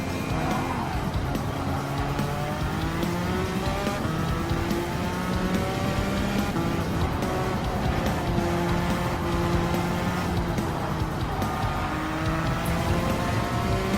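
A race car driven at Watkins Glen in the video game Gran Turismo 7 holds a loud, continuous engine note that rises and falls through gear changes over about fourteen seconds, with no speech.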